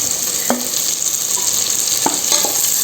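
Garlic sautés in a hot pan for mutton sukka, a constant soft hiss of frying with a few sharp scrapes or taps of a spoon stirring, close and alone without talk.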